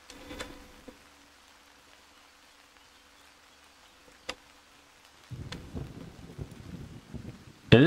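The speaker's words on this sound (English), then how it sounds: "It is lightning." A thunderstorm with lightning in the farming game Harvest Days: faint steady ambience, one sudden crack midway, then a denser rumbling patter of rain building toward the end.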